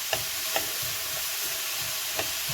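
Spaghetti squash cooking in a frying pan gives off a constant soft sizzle, broken by a few evenly spaced stirring scrapes of a utensil against the pan, heard up close with no talking.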